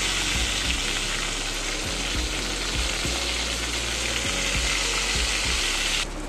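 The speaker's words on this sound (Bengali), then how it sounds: "পটলটা এই পটলগুলো লাল লাল ভাজা হলে আমি তুলে নেব।" Pointed gourd (potol) pieces fry in hot oil, browning until reddish for a Bengali curd potol dish, giving a steady close sizzle with soft periodic stirring knocks throughout, no voices.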